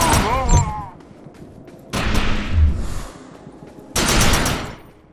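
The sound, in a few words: gunfire shooting projections in video game Defiance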